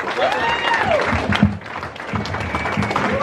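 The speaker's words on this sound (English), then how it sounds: "big round of applause for Dan and the questionable comedian." Applause from an audience at a comedy show in Cornwall, steady dense clapping throughout with a few whoops and a brief voice cutting through midway.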